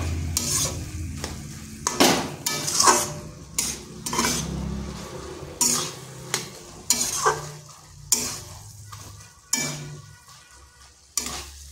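Close scraping and stirring of a spatula through a thick banana stem and potato curry in a pan, with soft sizzling underneath and repeated sharp clacks of metal against the pan at irregular intervals.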